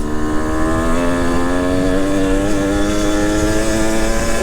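A two-stroke hard enduro motorcycle drones loud and close, its engine note climbing steadily in a sustained pull under heavy throttle, dense and continuous with no voices.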